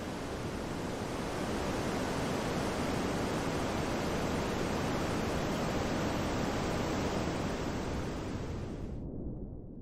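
An underground river rushes steadily through the vast Škocjan Caves canyon, giving a dense, continuous roar that fills the space until the sound abruptly thins near the end.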